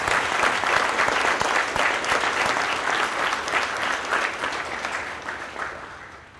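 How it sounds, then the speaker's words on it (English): Audience applause at a US Eighth Army change of command ceremony, a dense steady clapping from a large crowd that gradually fades toward the end, with no talk over it. "Please join me in a round of applause for those who stand before you."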